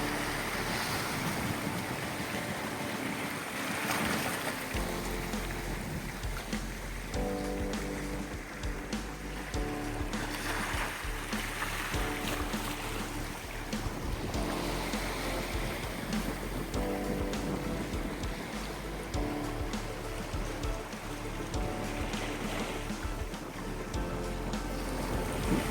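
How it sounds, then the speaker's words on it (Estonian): Strong wind over the open sea during a family boat trip along the coast near Altja, Vergi and Võsu, a steady loud roar with rushing water and buffeting against the microphone for the whole stretch. "Tuul on kõva, aga laineid ei ole."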